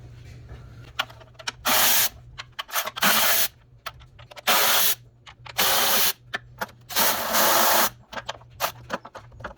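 Power tool bursts in separate runs, about five to six, loosening 8mm bolts on the intake of a 2014 Jeep Grand Cherokee 3.6L V6, with ratchet clicks and handling noises between them and a steady low hum underneath.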